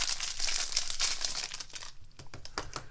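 Paper being handled and crinkled while unboxing a Stampin' Up! annual catalog pre-order, giving close, steady rustling and crackling that thins out toward the end, with no talking.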